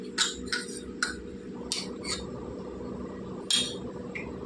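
A spoon mixes sliced onion with chili powder and lemon in a bowl, giving a handful of sharp, irregular clinks and scrapes over a low steady background hum, with no one talking.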